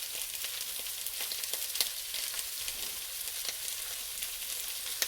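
Potatoes and leftover Christmas ham fry in a generous amount of oil, giving a soft, steady sizzle with occasional clicks and scrapes of stirring, fairly quiet and close.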